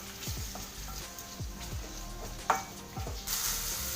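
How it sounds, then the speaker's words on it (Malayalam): Onion with salt sautéing in coconut oil, a quiet steady sizzle with several soft stirring scrapes and one sharper clink of utensil on pan, close but low in level, no voices. "ഞാൻ അതിലേക്ക് നമുക്ക് സവാള ഇട്ട് കൊടുക്കാം. കുറച്ച് ഉപ്പ് കൂടി ഇട്ടൊന്ന് വഴറ്റിയെടുക്കുക."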